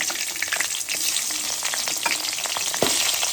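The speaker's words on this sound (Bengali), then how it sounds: "ফোড়নটা হয়ে গেছে, এবার আমি মাছের মাথাগুলো সব দিয়ে দিচ্ছি এখানে।" Fish heads frying in hot mustard oil after the spice tempering, a loud, dense, continuous crackling sizzle with a few spatula scrapes, close up and without talk.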